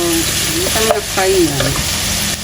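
Beef with onion and spices frying and being stirred in a pan, a steady close sizzle with scraping stir strokes throughout, no voices.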